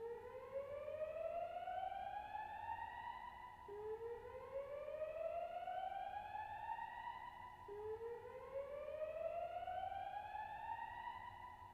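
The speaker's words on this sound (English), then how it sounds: "There has been a fire alarm reported in the building." A building fire alarm siren sounds in a theatre during a Sunday matinee performance, three long rising wails repeating steadily at about four-second intervals, loud and continuous without talk.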